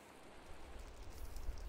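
Steady, faint rain hiss from the Minecraft video game, a soft continuous patter that builds slightly toward the end, with no voices.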